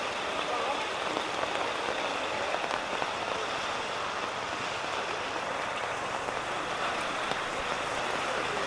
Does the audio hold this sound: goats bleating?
no